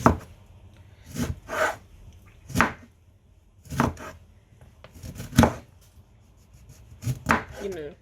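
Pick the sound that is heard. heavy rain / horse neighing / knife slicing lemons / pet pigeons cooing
knife slicing lemons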